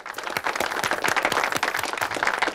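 Studio audience applause for kids on a Swedish children's show, a few people clapping in a steady, quick rhythm, moderately loud and close, with no voices over it.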